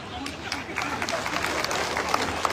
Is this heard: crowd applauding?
yes